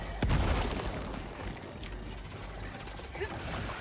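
A grenade blast in the video game Helldivers 2, a single loud boom near the start followed by rumbling battle noise and mechanical clatter.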